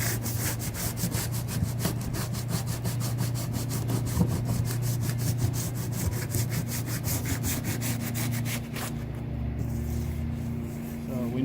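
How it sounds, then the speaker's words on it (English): Steady back-and-forth sanding on the driver's quarter panel of a 2003 Cadillac CTS, a continuous rhythmic rasping scrape that runs close and loud, then slows and changes near the end. "I can go ahead and start sanding up the side a little bit here"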